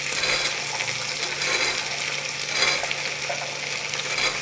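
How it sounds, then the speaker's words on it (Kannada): Avarekalu beans tossed into a ghee tempering for an avarekalu, potato and brinjal sambar, giving a steady close sizzle with stirring and scraping throughout and no talk. "ಈಗ ಒಗ್ಗರಣೆ ಬೆಂದಿದೆ. ಅವರೆಕಾಳು ಹಾಕೋಣ."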